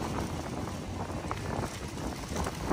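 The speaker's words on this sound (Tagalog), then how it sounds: "Sa lakas ng hangin, lakas ng alon" Strong wind gusting at a shoreline with waves, a steady loud roar of wind buffeting the microphone throughout, rough and unbroken.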